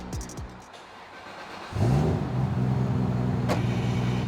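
A Toyota Supra engine idles with a couple of faint clicks, then the clutch is released and it abruptly rises into a louder, rough revving drone that holds steady, close by.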